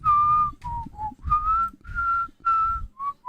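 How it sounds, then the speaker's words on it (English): A person whistles a short tune in a series of clear, bright phrases with brief pauses between them, close and fairly loud with no talking. "Was I just whistling my single there?"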